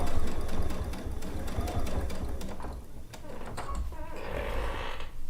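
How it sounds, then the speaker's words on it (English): Sewing machine stitching down quilt binding toward a corner, a close, fast rhythmic whirring with brief pauses and stops. "we'll get back and get our binding down to this, stitch down to the corner here"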